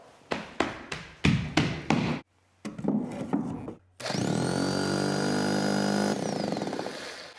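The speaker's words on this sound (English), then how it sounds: "I'm gonna take the hammer drill and I'm gonna hammer on the floor joists to try to vibrate the form." Hammer drill pounding on wooden floor joists: a run of sharp, loud percussive knocks, a pause, then more bursts, followed by a sustained, steady, loud droning rattle for several seconds.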